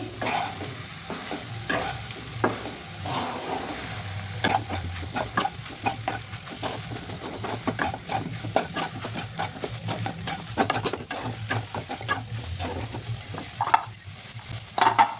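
Mushrooms fry in a masala-coated pan while being stirred, a continuous close sizzle broken by frequent scraping and clinking strokes of a spoon against the pan.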